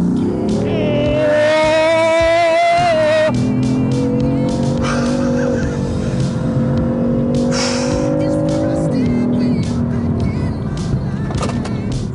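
A 2014 BMW M3 engine revs high toward 7,600 rpm, pitch climbing and falling through gear changes, loud and close, with brief squeals and a voice mixed in.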